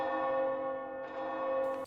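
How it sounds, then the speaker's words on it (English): Bells ring at night in the fantasy game Oblivion, a sustained, resonant church-bell tone humming steadily with a second strike layered in partway through, heard alone. "Who's ringing the bells at this time of night?"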